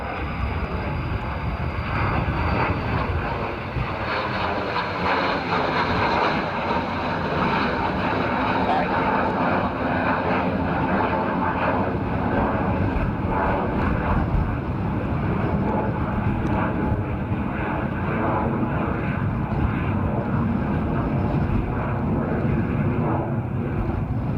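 Airbus A340 jet airliner taking off at Dublin Airport, a sustained loud engine roar mixed with wind noise, steady across the whole stretch as it powers down the runway.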